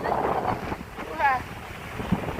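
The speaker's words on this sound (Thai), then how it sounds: "ลมแรงมากดูดิทะเลลมแรงมาก" Strong wind buffets the microphone on the seashore at Rayong, a rough steady roar over the sea with a faint voice in the background.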